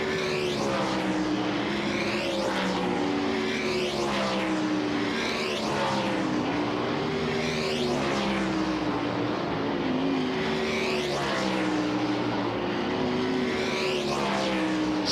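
Race cars lapping a speedway track in a practice session, engines rising and falling in repeated sweeping passes every couple of seconds, loud and continuous from the distance.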